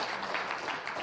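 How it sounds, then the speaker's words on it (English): Audience applause for a volunteer at a school event, a dense steady wash of many hands clapping at moderate distance. "One more big round of applause for Charlie."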